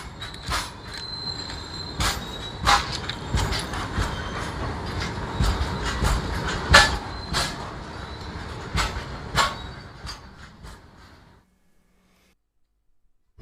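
A freight train rolls past on the railway track with rhythmic clickety-clack of wheels over rail joints and metallic squeals, loud and close, then fading away to near silence at the end.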